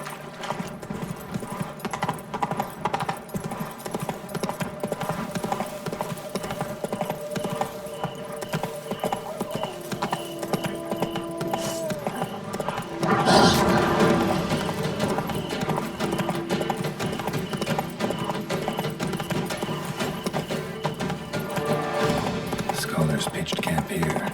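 Horse hooves clip-clopping steadily in The Witcher 3: Blood and Wine, a continuous rhythmic gallop with ambient game sounds and a brief louder swell midway.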